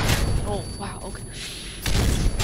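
A Semtex grenade detonates in a Call of Duty: Modern Warfare 3 Ground War match on the Outpost map, a heavy broadband blast rising near the end over ongoing game noise and voices.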